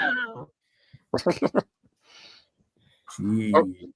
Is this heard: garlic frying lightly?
no